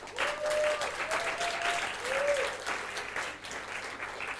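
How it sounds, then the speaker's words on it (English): Audience applause at a conference opening ceremony, a dense wash of clapping that swells and then gradually thins, with a few faint voices calling out over it. "Please give a round of applause for Miss Fanny Angeleska."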